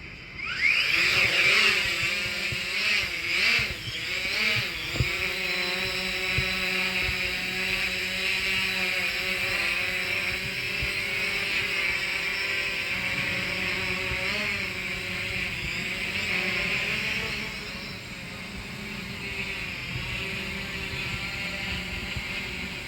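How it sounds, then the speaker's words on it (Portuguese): A 2022 FIMI X8 SE drone's motors run with a continuous high-pitched whine and buzzing hum, with some mechanical clicking and rising tones early on, then holding steady and fairly loud throughout. "Agora vamos ver, ligar o motor."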